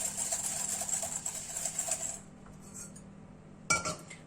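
Egg yolks whisked with caster sugar in a bowl give a close, fast, rhythmic metallic clatter for about two seconds. Quiet follows, then a single sharp clink against the bowl.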